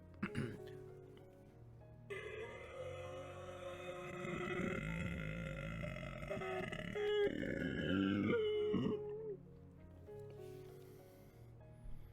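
A voice imitates a drawn-out fart-like noise during a tabletop Dungeons and Dragons session, a low, wet, buzzing rasp lasting several seconds over a steady tonal background that fades in and out.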